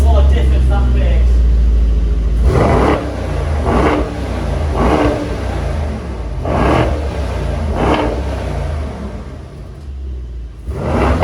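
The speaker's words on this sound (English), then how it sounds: "now listen to this car and what a difference that makes" A 2017 Mercedes-AMG E63 S Edition 1 4Matic+ engine rumbles at idle, then is blipped in a series of short, sharp revs, about six bursts in a steady rhythm, close and loud.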